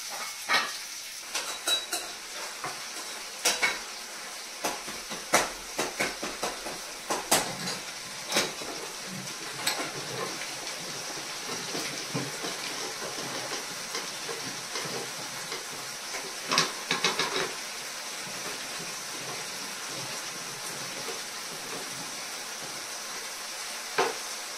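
A small kitchen machine strips the skins off vegetables, giving irregular rasping, crackling bursts that come in clusters and then settle into a softer, steady scraping. Nobody speaks.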